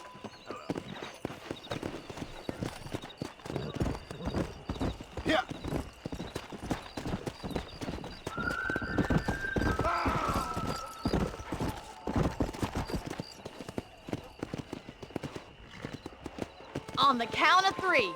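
In the Western game Red Dead Redemption, horse hooves clip-clop steadily at a gallop for a long stretch. Voices talk over the hoofbeats, and a whinny and other game sounds appear near the end.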